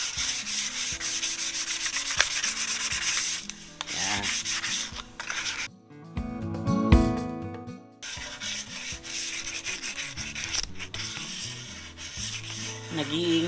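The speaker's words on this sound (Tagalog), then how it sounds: "Remember, light sanding lang." Light hand sanding of a shellac French-polish finish on a handmade bass guitar body. Close, steady rubbing strokes continue with a brief pause partway through, and no one speaks.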